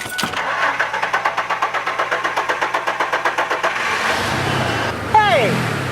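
A car engine that has just been repaired after a loose oxygen sensor cranks in a fast rhythmic chug for several seconds, then catches and settles into a steady idle close by, with a voice speaking at the end.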